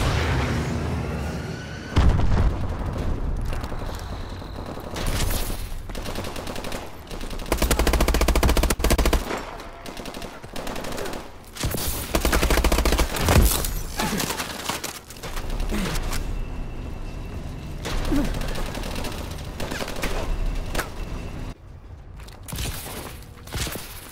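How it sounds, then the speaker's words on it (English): Missile strikes and gunfire fill a shooter video game, with rapid bursts of automatic fire, repeated heavy booms and explosions, and loud, dense combat noise running throughout. "Friendly missile strikes incoming."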